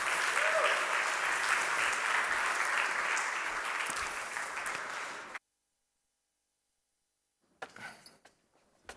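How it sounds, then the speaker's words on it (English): Audience applause for panelists at the xDay Munich conference rings out as full, steady clapping for about five seconds, then cuts off abruptly into silence before a few faint scattered knocks. "Please give a big round of applause to the panelists."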